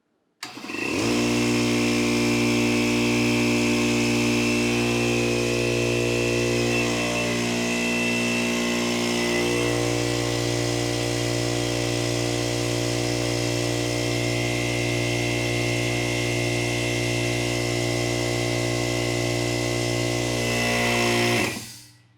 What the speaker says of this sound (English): All right, I have my full-size air compressor.